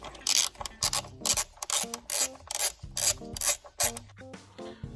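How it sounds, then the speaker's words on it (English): A bracket being removed during a Sasquatch CCV installation on a turbocharged vehicle, heard as a rapid series of rhythmic ratcheting and rasping clicks, close and steady, with no talking. "Next thing, we're going to take this bracket off here."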